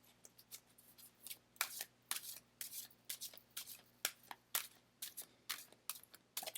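Tarot cards are shuffled close up, a quick run of crisp riffling bursts with short pauses between them, quiet and with no talking.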